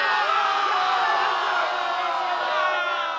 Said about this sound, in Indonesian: Momen kemenangan ini dirayakan dengan sorak-sorai yang membelah langit malam